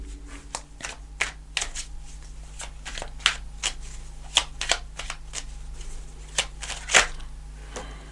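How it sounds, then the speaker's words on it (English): Tarot cards are shuffled by hand in a quiet room, with a run of crisp riffling bursts and soft slaps at an irregular pace, close and fairly faint. "I'm going to pull a card for this Queen of Wands and High Priestess"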